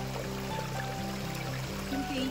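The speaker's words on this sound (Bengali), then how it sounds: "কিন্তু এই ছোট ঝর্ণারই আওয়াজটাই কত স্যাটিসফ্যাকশন আনে না" A small waterfall spills over green moss-covered stones in Barsey Rhododendron Sanctuary, West Sikkim, producing a steady, close rush of flowing water with a low droning hum underneath.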